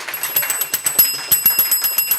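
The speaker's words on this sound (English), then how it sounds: "I got a bell for you." A small hand bell rings rapidly and repeatedly on a cabaret stage, bright metallic dings in quick succession, close and alone without speech.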